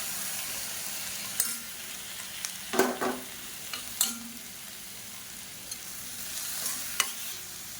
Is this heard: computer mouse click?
no